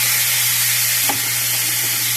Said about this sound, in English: So I'm just going to throw some burgers on there.